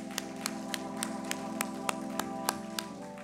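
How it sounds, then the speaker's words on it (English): A church congregation applauds during a worship service, with a steady run of fairly sharp, evenly spaced claps over a low hum, heard at moderate distance. "let's give him a round of applause"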